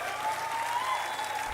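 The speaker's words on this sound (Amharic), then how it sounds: "አጨብጭቡላት።" An audience claps together in a steady, dense wash of applause at moderate distance, even and continuous without voices on top.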